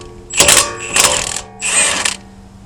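A 24 mm socket on a ratchet loosening a nut on a 2015 Nissan NV1500 during wheel bearing work, three quick close bursts of metallic clicking separated by brief pauses.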